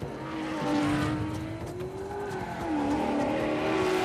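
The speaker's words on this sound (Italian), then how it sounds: "Questi rumori di auto che sfrecciano" Engines whine and rise in pitch as cars race past in Uncharted 4, with tire squeals and a continuous droning roar, no talking.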